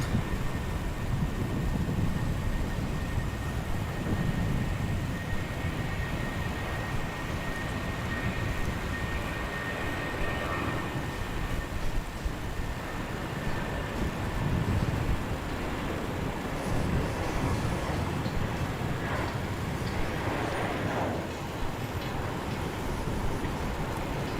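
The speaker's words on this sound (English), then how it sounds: "here's our Jetstar rolling" A Jetstar airliner at Brisbane Airport begins its takeoff roll, a broad, steady roar of jet engines heard from a distance, holding fairly level throughout with a faint high whine.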